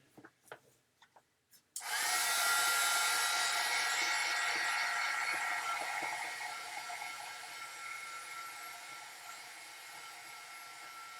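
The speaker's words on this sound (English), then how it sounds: "And then we're going to dry this, heat set it so that we can write over the top of it." A heat tool kicks on abruptly after a couple of quiet seconds and blows a steady, loud broadband roar to dry and heat-set craft paint, easing slightly toward the end.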